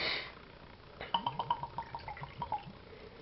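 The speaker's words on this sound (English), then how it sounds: "We got a shot poured." Pumpkin spiced rye whisky poured into a shot glass. A soft initial hiss gives way to a rapid series of small glugs and splashes, then the pour trails off. It is quiet and close.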